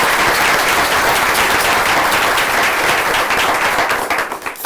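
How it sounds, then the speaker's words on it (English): An audience at a law school teaching awards ceremony gives a full round of applause, loud and sustained, then thins and fades near the end. "Perhaps you could have a round of applause."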